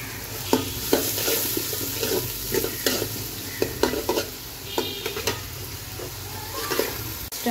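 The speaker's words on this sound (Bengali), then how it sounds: "গরম তেলে দিয়ে দিচ্ছি পেঁয়াজ কুচি" Chopped onions frying in hot oil for fried rice, a steady close sizzle broken by frequent scrapes and clicks of a spatula stirring the pan, no talk.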